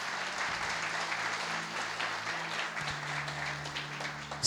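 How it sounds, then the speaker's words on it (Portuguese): Church congregation applauding for Jesus during a worship service, a steady dense wash of clapping across the whole stretch with a low sustained organ or keyboard tone underneath. "Aplauda o Senhor Jesus"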